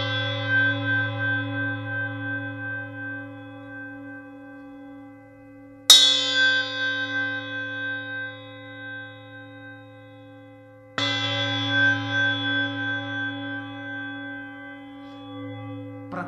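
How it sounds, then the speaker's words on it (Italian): A well-made bell struck three times, each strike ringing out loud with a long, slowly fading hum and shimmering overtones as the bottom of the bell vibrates freely; no voices. "Praticamente la campana suona anche sotto. Se io do un colpo e permetto la flessibilità al fondo della campana di vibrare"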